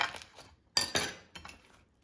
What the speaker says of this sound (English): now I'm going to cut it to show you that it's cooked inside